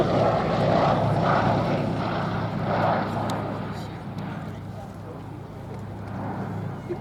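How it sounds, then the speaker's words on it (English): Westland high-wing monoplane with a propeller engine flying at a military airshow, a steady droning engine sound passing at moderate distance, swelling slightly and then easing, with a commentator talking over it. "Westland with this very distinctive high-wing monoplane with large undercarriage spans, plenty of cockpit glazing for pilot and observer."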